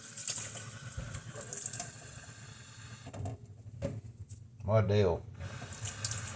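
Water running from a tap into a sink while rinsing a plastic part during a 1984 G.I. Joe figure repair, a steady close hiss with a brief word spoken over it.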